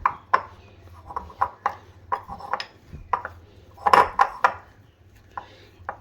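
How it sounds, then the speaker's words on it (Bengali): A utensil knocks and scrapes against a bowl while bread dough is mixed, making a series of sharp clinks and taps in an irregular rhythm, close and fairly quiet. "আর এটা খুব ভালোভাবে মিক্স করে একটা ডোয়ের মতো রেডি করে নেব।"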